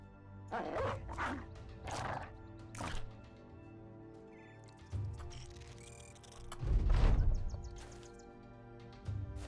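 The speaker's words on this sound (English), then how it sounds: "I'm going to start dropping dogs." War dogs barking in the tactical game Battle Brothers, several sharp barks and yips spaced across the fight, faint and mixed with combat clatter over background music.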